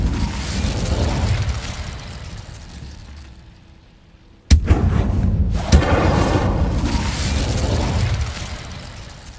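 An Incendio fire spell blasts in Hogwarts Legacy: a sudden loud burst partway through, followed by a sustained roaring rush over a dense background of game noise.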